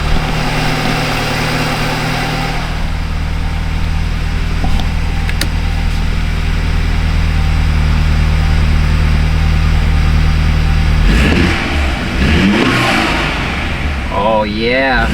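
A cold BMW F30 with an N20 four-cylinder engine idles close by with a steady low hum, then is revved near the end in rising and falling bursts, with a voice talking over it.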